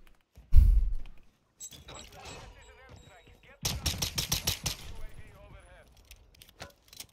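Pistol fire in Warzone 2: a heavy boom near the start, then a rapid cluster of sharp shots a few seconds later, with scattered game effects and some talk around them.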